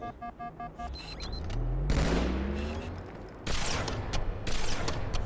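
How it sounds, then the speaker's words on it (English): Beam rifle fire in the Halo 2 video game, loud game gunfire with booming shots and rising electronic tones over a busy, dense game soundscape, without any talking. "beam rifle, super good at taking out elites"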